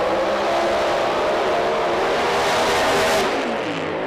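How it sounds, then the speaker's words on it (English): Pro Mod drag car at a British Drag Racing Championship round doing a hard burnout, a loud sustained roar of engine and spinning tyres, near and continuous throughout without letting up. "No holding back on the burnout from Andy as usual"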